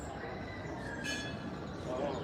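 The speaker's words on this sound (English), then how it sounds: "There goes the train, you can hear it." A train at Alton Towers theme park passes at a distance with a steady rumbling roll and a brief metallic squeal, under outdoor background noise and a person talking.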